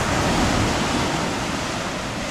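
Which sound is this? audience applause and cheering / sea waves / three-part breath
sea waves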